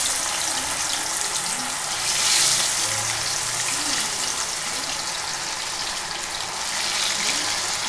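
Fish pieces fry in hot oil with a dense, loud, continuous sizzle and crackle that holds steady throughout, with no talking.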